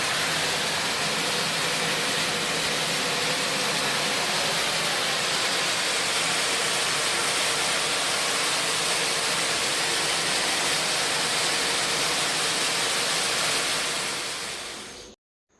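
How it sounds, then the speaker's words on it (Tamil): Heavy overnight rain pours down in a dense, steady hiss that fills the whole clip without letup, then cuts off abruptly at the end. "செம்ம மழை, விடிய விடிய மழை பெய்ய ஆரம்பிச்சிச்சு"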